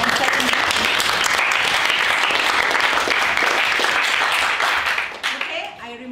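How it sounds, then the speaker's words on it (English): A university class applauds student presentation groups, brisk dense clapping that holds steady and then thins out into a few scattered claps, with some talk underneath. "Give applause to first group and second group."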